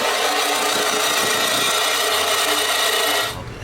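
A steady, loud power-tool cut runs through the exhaust pipe of a BMW X1/X2 being prepared for a Dinan exhaust, grinding continuously for about three seconds before cutting off.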